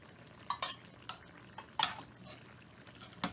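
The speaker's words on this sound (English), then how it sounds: "I'm going to add some peas to my rice." Frozen peas tumble into a pan of rice cooked with Italian sausage, giving a few soft scattered rattles and clinks of the spoon and pan, close and fairly quiet, with no talk.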